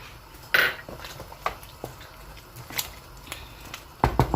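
Crayfish goes into a pot of Anambra bitter leaf soup with goat meat. A spoon or utensil clinks and scrapes against the pot in scattered, sharp, nearby taps, with a louder clatter at the start and a burst near the end.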